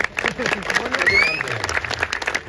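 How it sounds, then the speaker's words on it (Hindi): Applause from a student audience at a live Hindi stand-up comedy show in a college hall, a dense smattering of claps lasting a couple of seconds with speech and crowd noise mixed in. "बीच बीच में ताली बजानी पड़ती है भाई"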